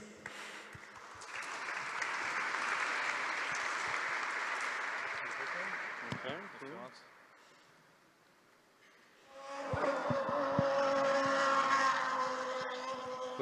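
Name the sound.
applause at hackathon closing ceremony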